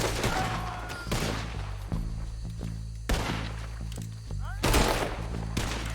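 Gunshots ring out in a Red Dead Redemption 2 shootout: several sharp, loud cracks spaced a second or two apart, each with a brief echoing tail, over a low game background.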